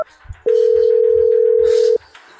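A telephone line tone after a dropped call: one steady, unbroken tone lasting about a second and a half, loud and close, with faint background noise before and after.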